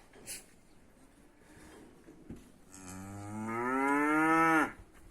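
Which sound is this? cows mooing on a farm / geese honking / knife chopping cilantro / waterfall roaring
cows mooing on a farm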